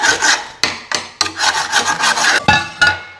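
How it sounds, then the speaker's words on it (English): Grass crud is scraped off the underside of a Honda HRU216 lawn mower: a run of about seven close, loud, rasping strokes, each short and abrupt, with brief gaps between them and no voices. "Scrape all that grass crud off and make sure there's nothing underneath."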